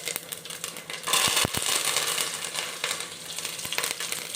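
Fresh curry leaves, cumin and mustard seeds hit hot oil for tempering, giving a sudden loud crackling sizzle with sharp pops and spatters that carries on steadily, close by.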